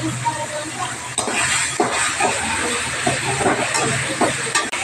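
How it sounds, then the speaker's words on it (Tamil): Curry leaves and tomatoes hit hot oil in a pan, giving a loud, steady hissing sizzle broken by a few sharp sputters and stirring clatters. "கருவேப்பிலும் போட்டு தக்காளியும் போட்டுறோம்."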